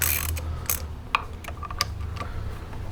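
A ratchet wrench works loose 10 mm reed valve bolts on the front cylinder head of a Vulcan 750 motorcycle, giving a few sparse, sharp clicks over a low steady hum.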